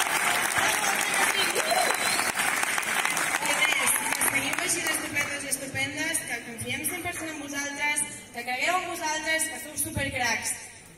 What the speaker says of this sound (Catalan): així que sisplau, un fort aplaudiment per tots els membres